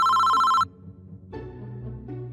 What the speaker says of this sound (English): That's when my phone rang.